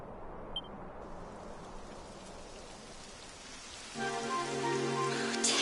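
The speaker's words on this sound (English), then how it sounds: "It would have to go and start raining, wouldn't it?" Rain begins falling in a PS4 video game, a soft steady patter of rain that swells as a tonal music-like layer comes in near the end, with no talk over it.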